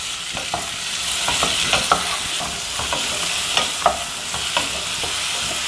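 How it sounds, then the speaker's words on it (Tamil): Chow chow sautéed with tomato and tamarind in a pan, a steady sizzle close up with frequent spatula scrapes and stirring taps throughout. "இன்னும் கொஞ்சம் நேரம் வதக்கிக்கலாம்."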